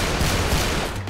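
Close, loud automatic fire in a Counter-Strike round set inside GTA 5 roleplay, a brief dense burst of overlapping game gunshots with no voices over it.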